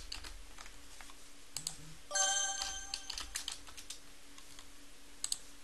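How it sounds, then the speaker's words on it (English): Computer notification chime ringing out around two seconds in with bright harmonic tones, set among light keyboard key clicks from a Linux shell scripting session, close and fairly quiet with no talking. "If you're wondering what that chime was, I accidentally hit the modifier key and S on my keyboard"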